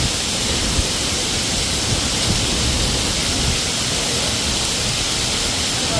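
Sudden heavy rain pours down in a dense, loud, unbroken hiss that stays steady and close for the whole stretch, with no pauses or voices.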